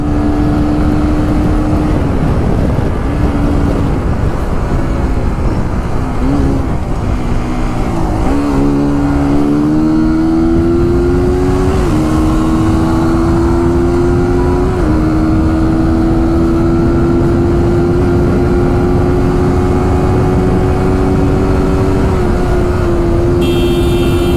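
A motorbike engine drones loudly and continuously while riding at speed, its pitch stepping upward through gear changes over strong rushing wind noise.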